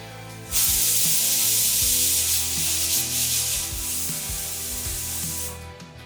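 A loud, steady steam hiss from a pressure cooker whistle, cooking dal, starts suddenly, holds for about five seconds, then cuts off.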